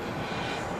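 An airplane at Charlotte Douglas International Airport produces a steady, moderately loud engine roar in a short, unbroken stretch, with windy conditions.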